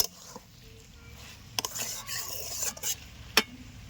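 Elephant foot yam curry in coconut milk gets stirred in a pan, with a soft simmering sizzle broken by a few distinct scrapes and metallic clinks of the spoon against the pan, close and quiet.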